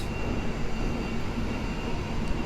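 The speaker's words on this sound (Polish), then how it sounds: "prawie, że przez plac budowy jedzie ten pociąg" A commuter train from Pilawa to Błonie passes through the Warszawa Zachodnia station construction site, a continuous close rumbling drone with no voices.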